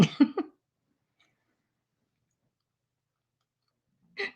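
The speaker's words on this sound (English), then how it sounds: "Sorry, I'm clearing my throat, y'all." A short rough throat-clearing sound at the start, then near silence, ending with another brief guttural noise.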